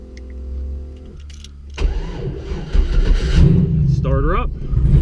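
A turbo LS Camaro with second-gen Fitech fuel injection, heard first as a low steady hum, then a loud engine start and rough idle, close by and with a voice talking over it.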